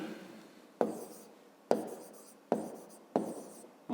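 Chalk or pen writing out a math answer for a fifth-grade exercise, heard as four sharp taps, each followed by a scratchy stroke lasting under a second, close and clear with no talk.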